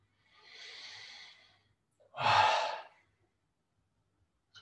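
A long, soft exhale and then a stronger, louder breath during a hatha yoga session, two distinct breaths in quiet surroundings.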